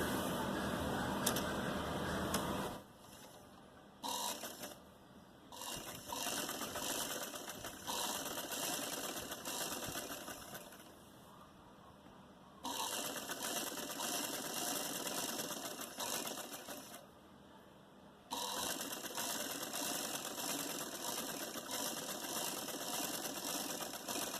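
Sewing machine stitching the hem band of a salwar, a steady close mechanical whir that runs in three long bursts with short pauses between them, heard alone without talk.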